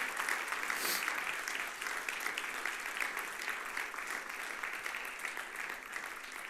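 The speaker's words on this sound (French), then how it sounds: "j'aimerais que tous ensemble, vous puissiez applaudir bien fort" Applause from a church congregation at a Momentum gathering, a dense and steady wash of many hands clapping together that holds through the whole stretch, heard from a distance with no voices over it.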